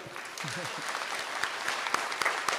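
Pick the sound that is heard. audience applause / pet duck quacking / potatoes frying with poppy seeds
audience applause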